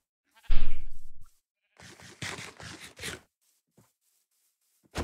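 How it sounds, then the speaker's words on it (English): A sheep in the Minecraft video game gives one short, loud bleat, followed by a few quieter clicks and shuffling sounds from play. "I need your food as well, sheep."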